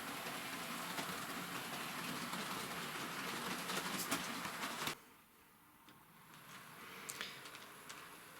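A small Hornby model train runs along its track with a steady whirring rattle that abruptly drops off, followed by faint clicks and ticks.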